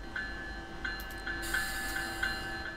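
A train in the game Train Simulator 2017 on a New Jersey Transit route runs steadily, a faint continuous rumble with a regular ringing bell-like chime repeating under it.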